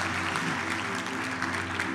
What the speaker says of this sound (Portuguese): Dá uma salva de palmas bem forte para Ele.